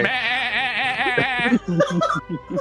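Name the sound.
voice imitating a sheep bleating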